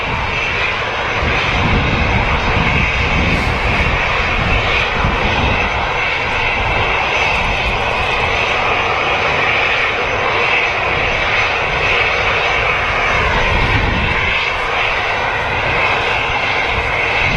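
Aircraft engines hum steadily at Manchester Airport's runway before takeoff, a loud, continuous roar with broad rumble, holding constant for the full stretch without any talk.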